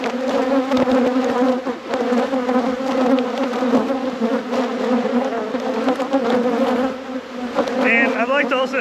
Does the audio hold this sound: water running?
no